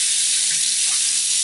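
Water runs steadily from a sink tap while rinsing a Sta-Wet palette, a continuous close hiss of flow throughout with no talking.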